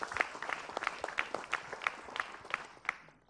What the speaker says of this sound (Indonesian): tepuk tangan buat Ustadz Tile